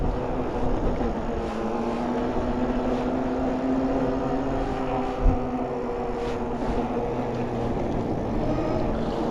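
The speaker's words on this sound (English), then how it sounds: "I think the front motor is not happy with the voltage." A front hub motor on a dual-hub electric bike whines steadily while riding through snow, a continuous tonal hum mixed with broadband rolling and wind noise, with one brief bump midway.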